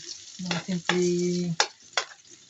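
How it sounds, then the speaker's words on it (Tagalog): Garlic and onion sauté in a pan for quick stir-fried pechay leaves, with a few short scraping stirs over a sizzling bed and a longer steady stroke, then two sharp clacks. "Igisa lang natin guys sa bawang. Bawang sibuyas, saka siyempre sibuyas."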